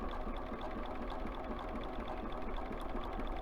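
A sewing machine stitches down a pillow edge with a steady, rapid mechanical chatter, close and continuous throughout.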